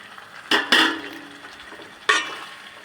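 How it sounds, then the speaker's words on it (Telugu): Tomato and cucumber pieces drop into a pan of cooking potato curry, making two quick soft splats and a third a moment later, each followed by a brief sizzle, close and fairly quiet. "ఇప్పుడు టమాటా ముక్కలు, దోసకాయ ముక్కలు కూడా వేసేసుకుందాం."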